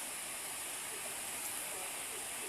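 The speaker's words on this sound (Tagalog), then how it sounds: "Ayan na ang ilog natin," A clear river rushes as a steady, dense wash, constant and unbroken throughout, with no voices over it.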